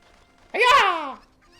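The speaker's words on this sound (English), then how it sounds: "It's the last chicken." A single squawking cluck from a chicken in the Zelda Ocarina of Time video game, one harmonic, falling call lasting about half a second, close and clear with no talk.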